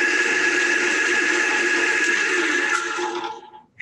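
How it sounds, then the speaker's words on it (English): A drill press motor runs steadily at close range, its broad whirring hum holding even before winding down and cutting off near the end. "Listen to my drill press, for example."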